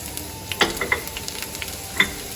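Ginger and garlic frying in a pan as chicken biryani is cooked, giving a soft steady sizzle with a few sharp crackles and stirring clinks, close and moderately quiet, no talking.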